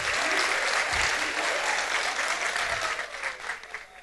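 An audience applauds for jury member Christian Nzigou at a festival competition, steady dense clapping that fills the room for about three seconds, then thins and fades toward the end.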